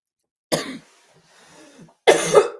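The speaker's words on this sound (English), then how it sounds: "Bet you guys are super glad that you tuned in to hear me cough today." A person coughs twice, close and loud, the two harsh bursts separated by a breathy pause.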